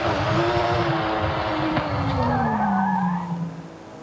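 Toyota Supra in the Forza Horizon 5 racing game, its engine droning steadily while tires skid and squeal in a long sliding screech that fades toward the end.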